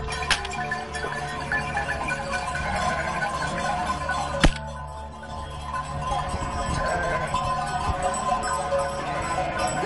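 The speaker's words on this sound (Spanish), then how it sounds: "aquí viene el pastor y un rebaño de 1000 ovejas" A large flock of about a thousand sheep moves past with its shepherd along a livestock drove road, a dense steady mass of shuffling hooves and rustle with faint bells and bleats close by, and a sharp knock partway through.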